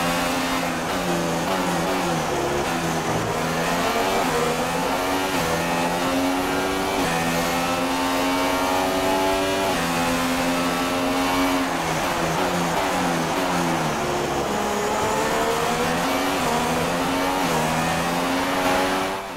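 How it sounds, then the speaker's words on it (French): The McLaren V6 hybrid engine of Stoffel Vandoorne's car in the racing game F1 2016 drones steadily and loud, its pitch rising and falling through gear changes as the car runs behind Felipe Massa's car. "Je vous ai laissé vivre quelques instants avec le bruit de ce V6 hybride."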